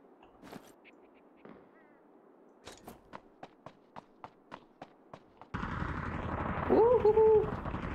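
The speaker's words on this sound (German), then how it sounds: "Auf mich wird geschossen." Gunfire in the video game Ring of Elysium: a few scattered shots, then a steady burst of about ten evenly spaced sharp cracks, followed by a loud sustained roar with a voice speaking over it.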